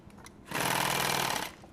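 A sewing machine stitches nylon Cordura tactical gear in one short, loud, buzzing run of about a second, starting and stopping abruptly, with quiet before and after.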